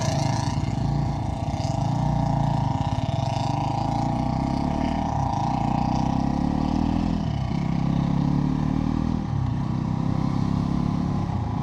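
A Bajaj Pulsar NS 400Z motorcycle running steadily on a ride in rain mode, engine droning loud and near with slight dips as gears shift, continuous for the whole stretch.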